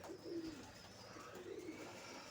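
Two soft coos from a Karaman pigeon nearby, one early and one later, amid quiet background noise.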